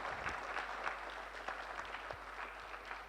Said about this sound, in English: So a round of applause for those,